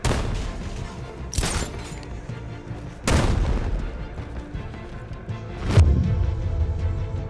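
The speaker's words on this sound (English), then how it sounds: "I'll shoot him down and see what happened." Gunfire in the video game Batman Arkham Knight, three loud sharp booming shots spaced a couple of seconds apart, each with a short decaying tail over a low game ambience.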